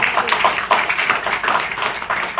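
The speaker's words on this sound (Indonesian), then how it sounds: "Boleh tepuk tangan." An audience at a talk on physiotherapy claps in uneven bursts at moderate loudness, individual hand claps standing out over a lighter rattle of applause.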